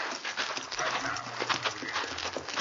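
Horses' hooves clip-clop as a radio drama sound effect for a western, a steady rhythmic clatter running throughout with a faint hum beneath.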